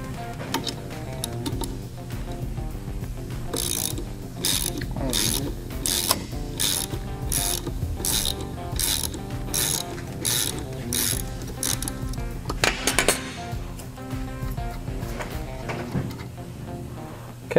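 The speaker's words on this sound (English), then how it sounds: "Should we take that nut off and see?" Wrench ratcheting a nut off a Berkeley self-priming pump, a close series of evenly spaced metallic clicks and ratchet strokes, with a few scraping and clanking handling sounds in between, no talk.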